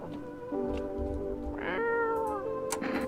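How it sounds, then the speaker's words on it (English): A cat in a video game meows as it is petted: a few drawn-out, tonal meows rising and falling, close and clear over a quiet background, with a short higher call near the end. "You pet the cat."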